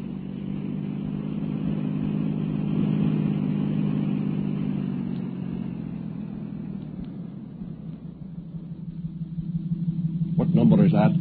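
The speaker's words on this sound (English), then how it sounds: "Swing the patrol car around, Benton." Patrol car turning around and pulling away, a steady mid-pitched engine drone that swells, eases off, then rises again as it accelerates, heard at close range.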